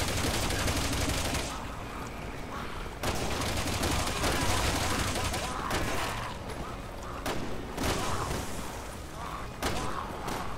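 Dense gunfire against zombies in Resident Evil 6, heavy and continuous rapid shots and booms layered together for about ten seconds, with a few brief near-silent gaps between bursts.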